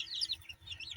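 Golden Sebright chicks give soft, high chirps in a quick, faint burst, with low rustling underneath.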